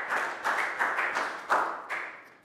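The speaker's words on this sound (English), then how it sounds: "Big round of applause for Tu." A Year 3 classroom applauds a student with a handful of bright, bunched bursts of clapping. Each burst rises sharply and then fades, and together they taper off over a couple of seconds.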